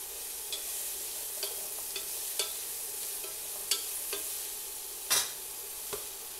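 Bacon cooks in a pot with a steady low sizzle, broken by a handful of sharp scraping stirs spaced a second or so apart, the strongest near the end.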